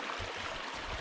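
A stream crossed on foot in a moorland valley flows with a steady, broadband rush of running water, continuous and fairly close for the whole second, with no voices.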